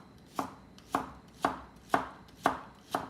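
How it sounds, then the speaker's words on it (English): A knife chops through leeks on a cutting board in six crisp, evenly spaced strokes about half a second apart, close and clear with no talking. "See, this is easy chopping, right?"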